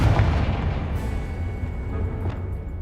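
A Confringo fire spell from Hogwarts Legacy bursts in a loud, deep boom that rumbles and fades over a couple of seconds, with a faint second crack near the end.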